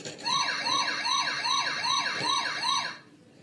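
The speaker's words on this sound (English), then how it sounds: "you get some vehicle accurate sound effects" A Transformers Animated Bulkhead toy truck siren wails up and down in quick repeated cycles, about seven sweeps over three seconds, then cuts off; thin and electronic-sounding.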